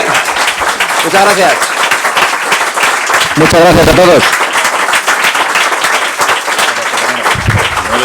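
Loud, sustained applause from an audience after a science talk on whether we are alone in the universe, with a man thanking the crowd over the clapping.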